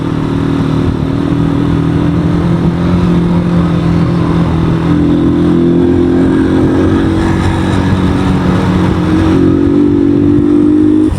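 Motorcycle engine laboring steadily uphill on a mountain road between Lobo and Madaymen, a loud, continuous close-up drone with a sustained engine tone and slight rises in pitch, no talking.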